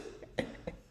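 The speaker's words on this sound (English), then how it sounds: "It's my husband in the background in the kitchen coughing up a storm because I got him sick." A man coughs in a kitchen in the background, two short faint coughs about a quarter second apart, distant and alone in a quiet room.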